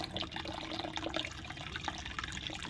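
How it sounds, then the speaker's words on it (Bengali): Water runs and splashes steadily into a cooking pot in a home kitchen while an egg curry is made, a soft continuous trickle heard alone. "বন্ধুরা, আমরা এখানে একটু জল নিয়ে নেব"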